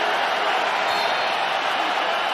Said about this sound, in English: Crowd coming to life again, standing.